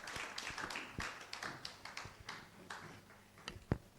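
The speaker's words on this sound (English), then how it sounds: "with a round of applause, let's welcome the CEO of Telecel" Audience applause at the official launch of the EMIs Chamber of Ghana, faint and thin, with scattered claps and taps heard at a distance throughout.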